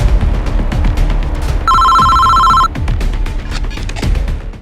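A mobile phone rings with a loud, sustained electronic tone lasting about a second, heard close up over the rumble of a motorbike on the road, with no speech.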